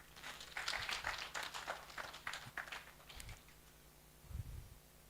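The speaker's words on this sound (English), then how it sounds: "A big hand of applause for ourselves." A conference audience claps in a faint, scattered patter that thins out after a few seconds, with a couple of low thumps near the end.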